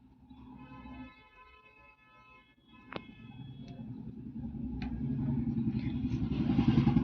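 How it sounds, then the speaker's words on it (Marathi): Vehicles pass on the road outside, a low engine rumble that swells steadily louder as one approaches, with a few sharp clicks and clatters in a kitchen nearby. "गाड्यांचा आवाज येतो, इग्नोर करा"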